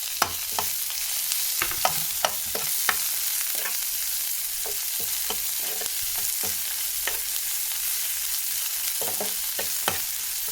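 Chopped onion and green chillies fry in hot oil in a pan with a constant close sizzle, broken by frequent scraping clicks as a spoon stirs them.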